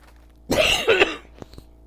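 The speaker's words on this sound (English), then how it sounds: "sorry about the coughing" A single short, throaty cough, close by, followed by a few faint clicks and quiet shuffling.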